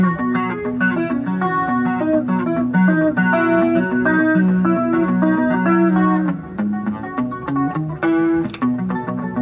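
Short staccato electric guitar notes played dry with no delay effect, a steady run of clipped tones with distinct attacks, loud and alone with no talking.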